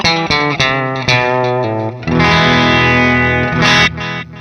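Clean electric guitar from a Telecaster single-coil pickup run through a delay pedal, with several plucked chords and notes whose repeats trail off, swelling into a sustained strummed passage with echoing tails. It plays alone, with no voices.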